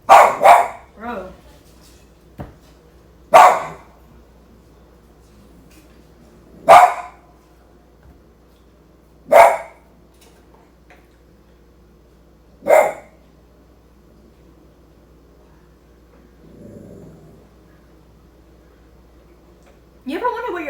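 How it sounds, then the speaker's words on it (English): A pet dog barks in single sharp, loud barks spaced a few seconds apart, with a quiet low hum between them and a faint whimper near the end. "she's barking so consistently"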